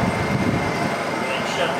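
A portable generator runs on eco throttle at held-down RPM, giving a steady, loud engine drone and broadband hum that carries unbroken through the whole short stretch.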